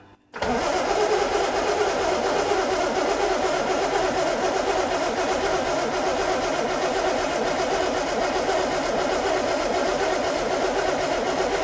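A flooded car engine, cranked at full throttle with the choke off, catches after a brief crank and then roars steadily and loudly close by for the rest of the clip.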